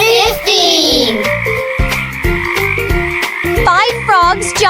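Cartoon frogs croak in a bouncy children's counting song, with repeated croaks and springy boing-like effects over cheerful music and a child-like singing voice, loud and upfront.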